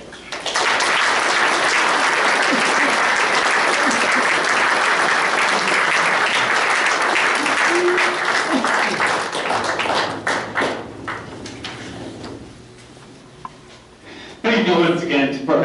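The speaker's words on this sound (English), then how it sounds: "let's give Alpine 75th anniversary a loud round of applause." A room of diners at a Lutheran church's 75th anniversary dinner breaks into loud, dense applause lasting about ten seconds, then thins to scattered claps and fades as a voice begins talking.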